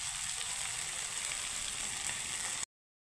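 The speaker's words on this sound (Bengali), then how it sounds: "এখন দিয়ে দিব জল" Steady broadband sizzle of a spiced curry paste with taro and potatoes as water hits the hot pan, continuous and close, cutting off abruptly near the end with no voices.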